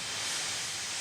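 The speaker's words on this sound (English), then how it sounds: "Gordon wheezed some steam and pulled out of the station." A steady, close hiss of escaping steam, like a big blue steam locomotive letting off steam at a station, one unbroken breathy rush lasting about a second with no voices.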